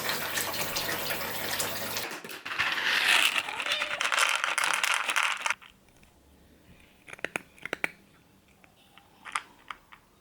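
A kitchen tap runs strongly for several seconds as hands are washed, then shuts off, leaving faint clicks and small handling knocks at close range.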